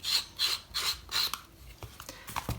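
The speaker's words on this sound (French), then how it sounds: "Donc on va venir en fait user un peu les bords comme ça ici." A blade scraping and wearing down the edges of a paper travel notebook, heard as four rhythmic rasping strokes followed by softer scattered scrapes and taps, close and alone.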